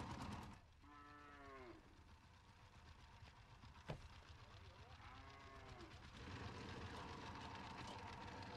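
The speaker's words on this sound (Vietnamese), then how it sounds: "Quái lạ, bò bê nhà ai mà lại buộc ở giữa đường thế này?" Cattle tethered in the middle of a road moo twice, a pair of drawn-out lowing calls spaced a few seconds apart, heard at moderate distance over a low steady background hum.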